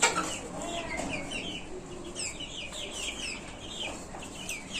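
Brahma and desi chickens cluck and murmur continuously at a low, soft level, a busy overlapping chorus of short calls from a flock of three-month-old birds.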